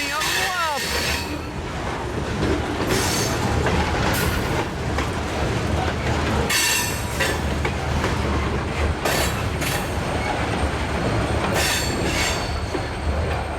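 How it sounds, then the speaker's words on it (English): A westbound CN freight train passing close by at Cedar Falls Junction, with a steady rumble of rolling wagons, rhythmic wheel clatter over joints and a brief squeal of wheels early on. "so we had a train meet here, the westbound CN and an eastbound Iowa Northern at the Cedar Falls Junction."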